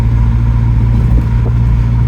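A 1985 Dodge Omni GLH Turbo cruises in fifth gear, its engine and road noise forming a loud, steady low drone inside the cabin.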